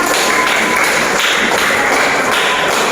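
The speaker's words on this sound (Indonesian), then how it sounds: "Tepuk tangan untuk Mbak Ada." Applause for a woman at a class or school session on positive discipline: a loud, continuous wash of many hands clapping close by, steady from start to finish.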